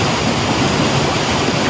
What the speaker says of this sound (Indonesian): dari sini itu ada sebuah curugnya sudah mulai nampak kelihatan